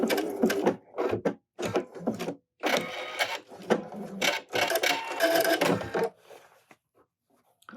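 A PFAFF Performance Icon sewing machine stitches an end taper in quick close bursts of rapid mechanical needle chatter, with short pauses between runs before it stops.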